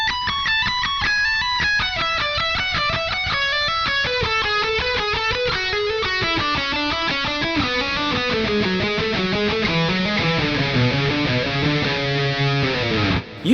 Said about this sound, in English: So descending will sound like this.